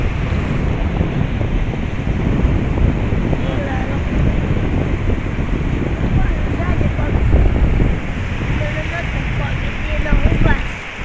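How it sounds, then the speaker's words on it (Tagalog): Big ocean waves wash and rumble at night under gusting wind buffeting the microphone, a loud continuous roar close by, with people talking now and then. "Ayun, malalaki na yung alon."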